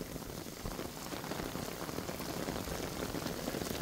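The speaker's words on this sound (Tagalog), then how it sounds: "dalawang araw na ng umulan na ganito" Heavy rain pours down in Taiwan during a storm, a dense, continuous hiss of drops striking surfaces nearby, steady and loud with no talking.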